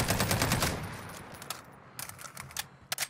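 Gunfire in the video game Warzone, with a dense burst of rapid automatic shots up front, then scattered sharper single cracks and short bursts further off.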